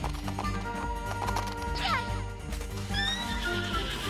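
A horse whinnies in a rising, wavering call over a steady backdrop of game music, with a second shorter neigh near the end.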